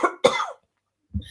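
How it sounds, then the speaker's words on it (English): Someone gives two quick, harsh coughs close by, then falls silent for a moment before a low throaty sound follows. "You coughed, and I checked your well-being."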